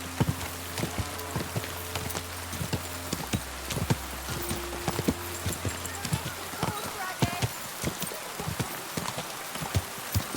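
Horse hooves in Kingdom Come: Deliverance 2 clop in a brisk, uneven rhythm on hard ground, close and clear, with a steady low hum beneath and voices speaking over the hoofbeats.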